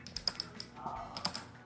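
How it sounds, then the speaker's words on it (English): Light plastic clicks in a quick uneven series, close up, as a foam cannon nozzle's fan adjustment is rotated, with a faint soft rustle in between. "It is a very satisfying clicking sound when you rotate from"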